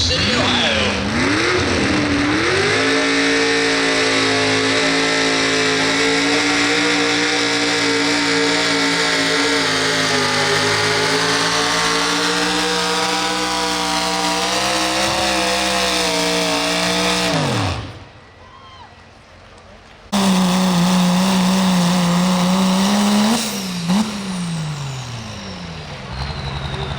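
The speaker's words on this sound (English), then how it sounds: "Last V8 tractor of the night." A V8 pulling tractor revs loud and close at a county fair truck and tractor pull in Ohio, holding a sustained roaring drone that rises and falls, cuts out abruptly, then roars back briefly, with an announcer talking over it.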